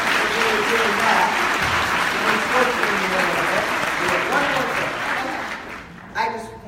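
A seminar audience applauds steadily, with dense, even clapping that tapers off near the end as a voice begins speaking.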